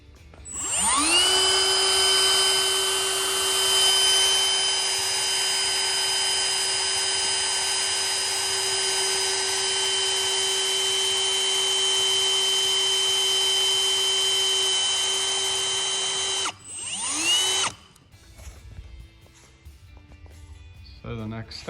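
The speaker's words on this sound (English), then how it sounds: "guide to drill out the holes in the new piece of smoked acrylic" A drill with a 1/8 bit drills holes in smoked acrylic, giving a loud, steady high-pitched whine for about sixteen seconds, then a short second burst, followed by quieter handling noises.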